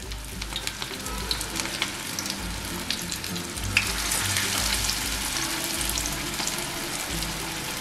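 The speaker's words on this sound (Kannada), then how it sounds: "ಇದರೊಳಗಡೆ ಇದನ್ನ ಒಡಗಳನ್ನ ಬಿಟ್ಕೊಳ್ಳೋಣ" Sweet corn vadas shallow frying in hot oil make a soft, continuous bubbling sizzle, fairly quiet and unbroken, with no talking.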